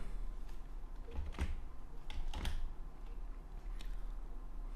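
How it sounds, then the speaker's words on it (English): Typing on a computer keyboard while writing a PHP script, a quick run of soft clicks with two brief clustered bursts of keystrokes, close and fairly quiet with no talk. "So I type in"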